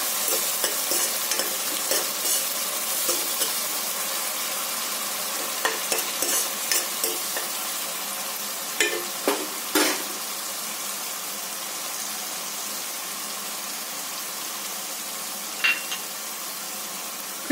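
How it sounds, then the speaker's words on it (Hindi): Pieces of suran (elephant foot yam) fry in a pan with a steady sizzle, punctuated by occasional scraping clinks of a spoon stirring. "देखिए मैं इसको फ्राई कर रही हूँ।"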